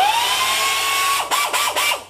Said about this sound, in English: So this is a nice handy little drill. You can get in compact places with it